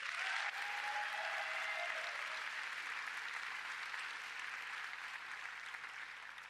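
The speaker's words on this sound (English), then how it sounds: "A round of applause for all 3 nominees" An audience applauds the three nominees at a women's sport awards ceremony, a broad even wash of clapping from a sizable crowd that holds steady and then eases slightly toward the end.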